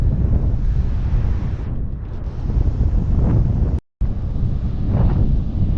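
Strong wind buffets the microphone by the sea during shoreline fishing as the tide rises, a loud, steady roar with gusts that swell and fade and a brief dropout near the end.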